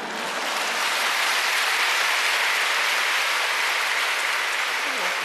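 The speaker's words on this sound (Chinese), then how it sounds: "诸位同学别鼓掌" A lecture audience at a Buddhist teaching assembly in Malaysia bursts into broad, steady applause that fills the room evenly for several seconds, a dense hiss of many clapping hands without a break.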